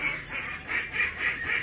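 Several ducks quack in a steady, repeating chorus, fairly close and moderately loud, with no talking.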